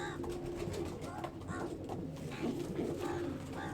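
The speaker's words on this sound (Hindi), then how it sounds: "बन टेल का, बहुत चौड़े पल्ले का कबूतर है।" A Qasori pigeon, a broad-tailed breed, gives soft, low repeated coos in a close, quiet indoor setting, with someone speaking intermittently under and between the calls.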